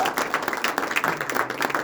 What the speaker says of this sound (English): How about a hand for our soloists?